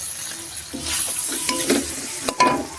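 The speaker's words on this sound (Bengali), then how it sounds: "তারপরে কেটে রাখা টমেটো কুচিগুলো দিয়ে দিব তেলে ভালো করে কষিয়ে নেব" Chopped tomatoes frying in hot oil for a homemade paneer curry, a steady close sizzle with scraping stirs of a spoon through the pan and a couple of sharp clinks near the end.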